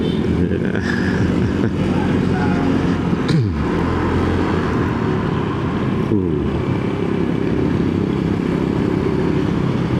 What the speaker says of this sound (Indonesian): suara-suara motor, mobil, klakson dan lain sebagainya yang datang dari luar itu bisa kedengeran